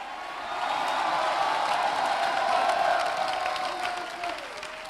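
Congregation at a church service clapping and shouting, a swell of applause with cheers and whoops that rises, holds and then fades toward the end, moderately loud and somewhat distant.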